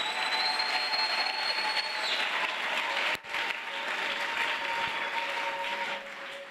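A church congregation claps and cheers for Jesus in steady, sustained applause that fills the room, with a faint tonal hum underneath and a brief dip midway.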